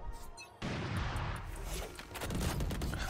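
Gunfire from Valorant deathmatch play, a sudden burst of loud, dense shots that keeps going with sharp impacts and rapid cracks over a steady game din, close and forceful for most of the stretch.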